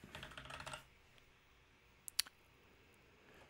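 Quick typing on a computer keyboard while entering a Confluence page title, a short run of close, soft key clicks followed after a pause by a couple of sharper isolated clicks, alone in a quiet room.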